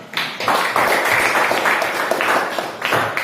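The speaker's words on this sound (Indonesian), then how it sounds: "Tepuk tangan untuk kelompok 1." A small class group claps together, brisk overlapping hand claps rising quickly and continuing steadily for several seconds nearby.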